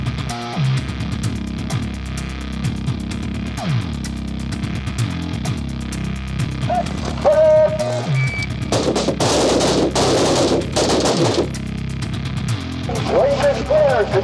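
Gunfire at an outdoor shooting range: sharp, loud shots and rapid bursts crackle repeatedly amid constant background rumble, with people talking over the firing.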